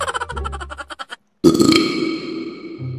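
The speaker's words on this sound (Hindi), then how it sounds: "मूली के पराठे खाने के बाद इतनी गंदी डकारें आ रही हैं" A loud, drawn-out burp up close after eating radish parathas, preceded by a short series of gulping, hiccup-like sounds, then a brief quieter tail.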